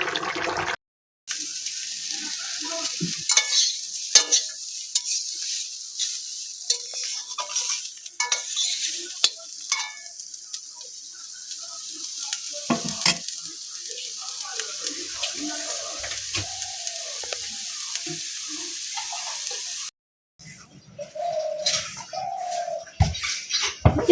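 Pui shak and potato vegetables stir and fry in a pan, a constant close sizzle with scraping stirs repeating throughout, while a few voices talk faintly in the background.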